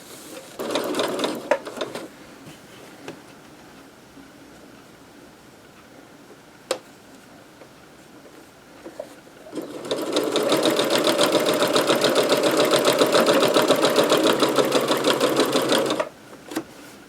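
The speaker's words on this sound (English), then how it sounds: "so let's go ahead and sew this" Sewing machine stitching cloth napkins together into a grocery bag, with a brief burst of stitching near the start, then a long steady run of fast, even needle chatter lasting several seconds before it stops.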